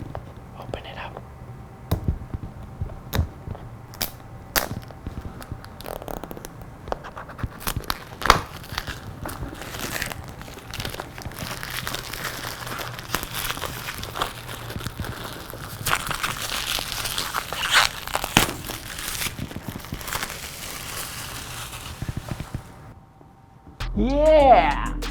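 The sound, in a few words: unwrapping OnePlus 8T phone packaging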